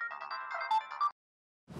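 A mobile phone ringtone plays a bright electronic melody, close and fairly loud, then cuts off abruptly into silence before another noise begins.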